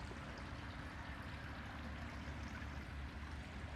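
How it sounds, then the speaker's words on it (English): A garden fountain in a Redland, Florida orchid nursery bubbles continuously, a soft, steady watery wash that stays even throughout with no voices. "this is a very tranquil place with all these flowers in the trees and the bubbling water."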